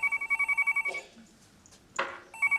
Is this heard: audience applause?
no